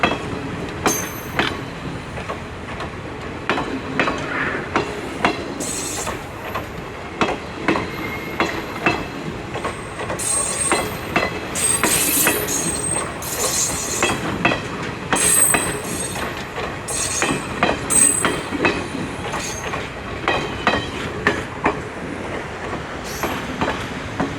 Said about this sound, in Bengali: একদম সাগরের তীর ঘেঁষে ট্রেন চলছে।